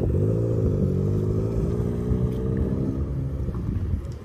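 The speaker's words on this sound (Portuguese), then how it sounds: "A chuva e o vento." Wind and rain outdoors in Curitiba, a loud steady low roar of wind buffeting close to the microphone, with a faint hiss of rain beneath it.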